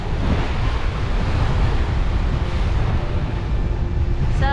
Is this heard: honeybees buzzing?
no